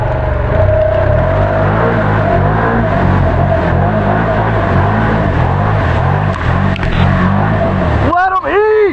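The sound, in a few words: Can-Am Renegade XMR ATV on Aztex tires driving through mud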